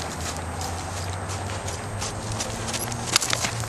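A horse named Isabella is ridden at a walk, hooves clip-clopping steadily under a constant background hum, with one sharper knock near the end.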